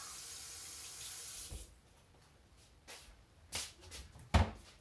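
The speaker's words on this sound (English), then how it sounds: "So I'm gonna rinse my hands." Kitchen tap water runs steadily for hands being rinsed, then cuts off, leaving a few soft knocks and a sharp thud near the end.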